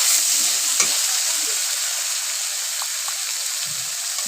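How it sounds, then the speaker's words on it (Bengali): Sliced ridge gourd frying in hot oil with cumin and green chilli for a hilsa curry, a steady close hiss of sizzling with a few soft clinks and scrapes of stirring. "ঝিঙেটা ভাজতে থাকবো।"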